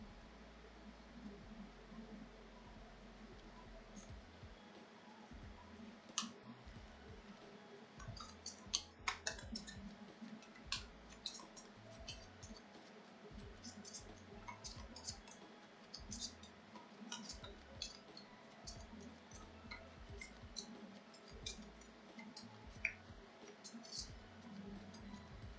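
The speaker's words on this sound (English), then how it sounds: "let's shuffle up the old deck here." Deck of cards shuffled by hand at a tabletop game of Wingspan: a quiet run of soft riffling clicks and taps, with brief sharper snaps, heard close and alone without talk.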